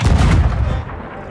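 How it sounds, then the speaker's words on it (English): A cannon mounted on a rowboat fires in the pirate game Sea of Thieves, one loud, close booming blast with a heavy low-end thump that decays over about a second. "As part of adding the cannon to the rowboat, obviously it's a big thing. It fires like that."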